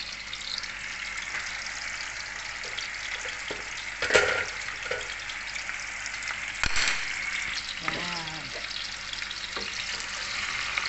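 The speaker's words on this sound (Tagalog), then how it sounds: "Prituhin natin siya." Chicken pieces fry in hot oil in a pan for chicken afritada, a steady close sizzle and crackle with a few sharp spatters and clatters along the way.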